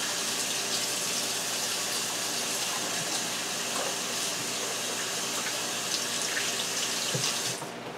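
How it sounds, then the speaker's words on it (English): Tap water runs steadily from a faucet into a sink as hands are washed in a kitchen where fish is being prepared, a continuous close rushing that cuts off near the end, with no talk. "Let me wash my hands."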